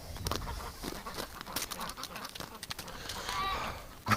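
Ducks quack in a scattered series of rough, nasal calls through a winter outing, moderately loud and close, with soft shuffling around them and no talking.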